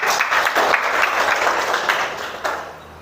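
A school class claps for a classmate's news report presentation, a dense, lively burst of many hands that holds steady and then tapers toward the end.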